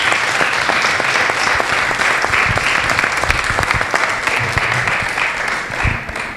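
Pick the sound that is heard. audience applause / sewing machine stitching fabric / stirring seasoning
audience applause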